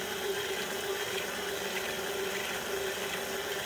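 Water trickles steadily from a tap or scoop into a sweet icing mixture being made while baking, a continuous close hiss with no talking.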